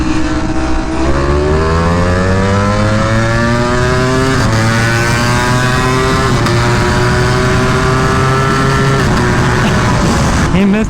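A Ducati motorcycle races on a track, its engine loud and close as it pulls away, climbing in pitch through several gear changes with brief dips between shifts.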